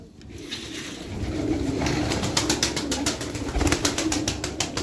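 An agitated pigeon flaps its wings in a rapid series of sharp claps that grow denser toward the end, over a steady background hum and low cooing.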